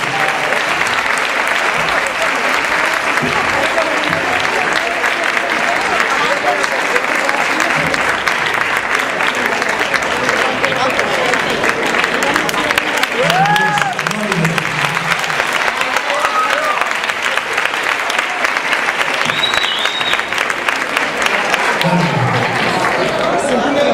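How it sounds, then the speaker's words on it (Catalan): Audience applause at a Christmas show, sustained dense clapping throughout, loud and steady, with some crowd chatter and brief voices mixed in. "Aquí rebem-nos amb un aplaudiment."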